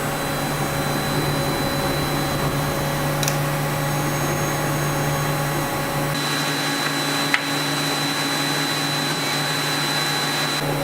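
Mazak CNC lathe moving its tool over to touch the workpiece, a steady mechanical whir and hum with tonal whine, close and continuous, the low drone dropping away partway through as the motion settles.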